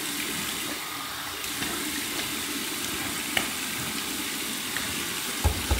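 Warm water runs steadily from a bathroom tap during a shave rinse, a continuous broadband rush with a few small knocks and splashes near the end.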